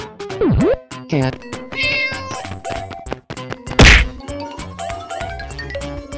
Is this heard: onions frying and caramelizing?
no